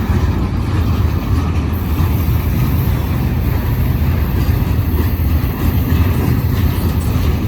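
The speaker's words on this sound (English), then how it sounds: "I see the end of the train coming." A train rolling past a road crossing near an industrial spur, a steady loud low rumble of wheels and railcars filling the whole stretch without letup.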